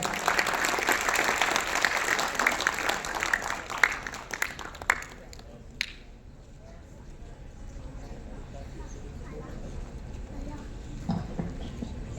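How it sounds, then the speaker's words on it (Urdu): An audience at a student honors ceremony applauds in a dense burst of clapping that fades out after about five seconds, leaving quieter room sound with someone speaking. "ہم تالیوں سے ان کو بتا دیں"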